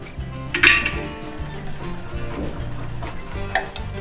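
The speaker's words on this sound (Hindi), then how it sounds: "पहले हम दही को अच्छी तरह से फेंट देंगे, जैसे इसमें कोई भी लम्स ना रहे" Yogurt being whisked smooth in a bowl, a steady scraping and light clinking of the whisk against the bowl's sides repeating close by.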